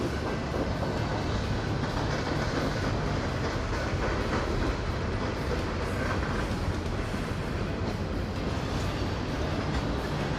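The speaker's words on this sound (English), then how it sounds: "It's kind of fitting to come through here and a CP train's running by" A CP freight train rumbles past continuously at Craigellachie, British Columbia, a loud steady roar of wheels and wagons with faint rhythmic rail clatter, close by and without talking.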